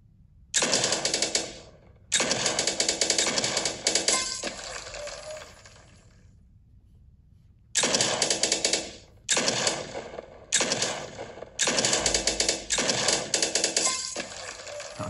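Gunfire in a mobile video game comes as rapid automatic bursts of crisp, clicky shots. The bursts last one to two seconds each, with short quiet gaps between them.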